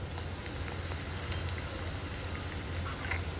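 Curry leaves fry in hot oil in a pan, giving a steady close sizzle and crackle with a few sharp pops throughout.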